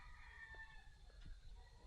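Faint roosters crow in the distance over a low outdoor rumble, several calls overlapping in a quiet background.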